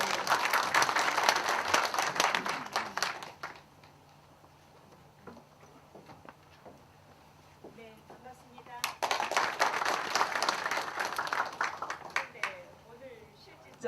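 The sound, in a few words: audience applause at a university forum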